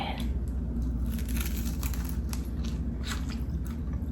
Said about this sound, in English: Oh, that crunchy toast.